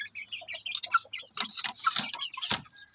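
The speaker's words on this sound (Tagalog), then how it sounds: "Kasi mga ganyang klaseng manok" Native-breed chickens, aggressive all-black roosters squaring off, give a run of close, loud clucks and squawks in quick irregular bursts with no talk over them.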